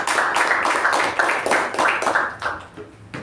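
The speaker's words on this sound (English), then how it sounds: "Let's give a big round of applause to both the speakers." A round of applause at a Toastmasters club meeting: a small group clapping in a steady, rhythmic patter that fades toward the end, close and indoors.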